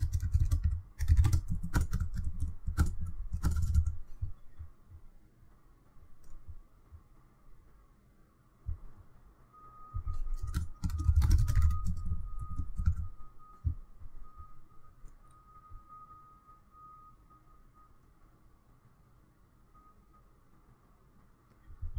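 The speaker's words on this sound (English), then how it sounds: "I'm going to type in a few filler words." Typing on a computer keyboard, with two clusters of rapid key clicks separated by quiet gaps, close and fairly soft, alongside a faint steady hum.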